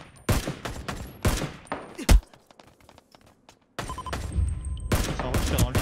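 Gunfire in the shooter game Ring of Elysium: sharp bursts of shots at close range, several separate volleys broken by short quiet gaps, with a person talking between them.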